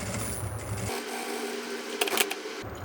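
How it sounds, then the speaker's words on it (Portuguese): A sewing machine stitches a seam along the top edge of a small fabric organizer bag, a fast buzzing whir that runs for under a second, stops, then starts again briefly, with faint handling noise between. "E agora eu vou passar uma costurinha, ó, bem na beiradinha"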